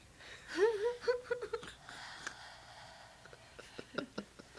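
A close voice gasps and breathes heavily, with whimpering, pitched exhalations early on, then quieter panting and sharp breaths trailing off.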